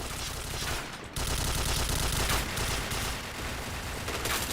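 Rapid gunfire in a shooting video game crackles in dense bursts, loud and continuous apart from a brief pause near the one-second mark.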